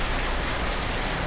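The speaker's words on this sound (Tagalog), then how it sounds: "For the first time nakita ko ngayon, umuulan ng yelo dito." Hail falling in Qatar, a dense, continuous hiss of ice pellets striking surfaces, loud and close, with no voices during this short stretch.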